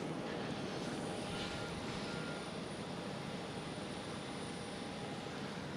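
Sky Express airliner entering the runway at Schiphol airport, a steady broadband engine roar at moderate distance, continuous and even throughout with no talk.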